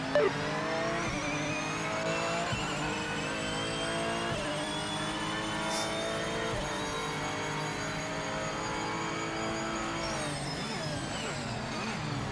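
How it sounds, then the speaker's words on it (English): A GT3 race car in the video game Project Motor Racing, its engine note climbing and falling through repeated downshifts with blips, tonal and steady at moderate level, with faint talk underneath. "all those downshift feels sound so good."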